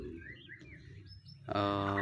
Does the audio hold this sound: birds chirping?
yes